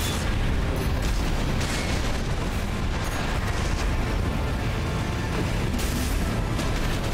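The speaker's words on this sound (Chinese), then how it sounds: "点解有啲飞弹轰过嚟咧？" In the mech combat game Armored Core VI, missiles explode in a dense, loud barrage, with booms and blasts crashing continuously.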